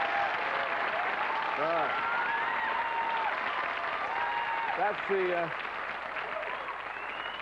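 Studio audience applause breaks out after a news bulletin at a 1988 ITV Telethon broadcast, a steady clapping wash running under a presenter's talk throughout.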